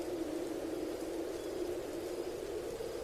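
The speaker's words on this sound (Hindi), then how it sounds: "बारिश अभी थमी नहीं है। तूफान धीमा हो गया है, लेकिन बारिश पूरे जोरों पर जारी है।" Heavy stormy rain pours steadily as a dense, even wash of noise, continuous and moderately distant, with no voices or other sounds over it.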